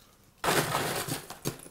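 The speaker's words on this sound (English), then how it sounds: "A little bit of ice." Ice cubes tumble into a blender jar on top of strawberry Greek yogurt and orange juice, a sudden loud clattering rush that carries on for about a second, with a second sharp clink near the end.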